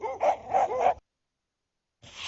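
A dog barks three times in quick succession, close and fairly loud, then falls silent for about a second before a fourth bark begins.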